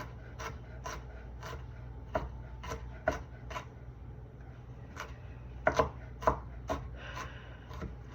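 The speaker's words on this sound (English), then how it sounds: "And I'm slicing them and then julienne them and then chopping them really little" A knife chops ginger into tiny bits on a board for homemade fried rice, a steady series of sharp, close taps that cluster into quicker bursts toward the end.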